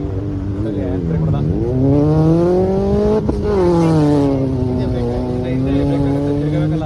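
Race car engine at a mud racing event in Mysore, droning loudly and rising and falling in pitch as the car revs and accelerates through the course, steady and continuous throughout.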